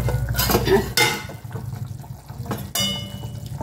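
A metal lid is lifted off a pot of simmering fenugreek curry (vendhaya kuzhambu), giving a couple of sharp, close metallic clanks over a steady background of bubbling and stirring.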